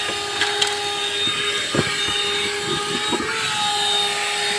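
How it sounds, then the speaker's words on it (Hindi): A vacuum cleaner cleaning a car interior runs with a steady whine and hum, joined by a few brief knocks and clatters, close by with no talking. "तो आपको आवाज आ रही होगी वैक्यूम क्लीनर की।"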